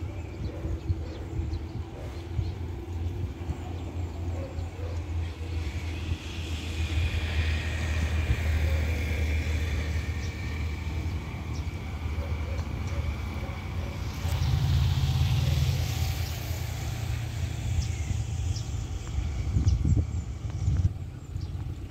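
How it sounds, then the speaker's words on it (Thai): A heavy Alstom diesel locomotive engine hauling a 33-car, 466-metre freight train drones low and steady, swelling louder midway as it revs up on a curve at Ban Pong, with a distant whine and rumble. "ได้ยินเสียงเร่งเครื่องมา"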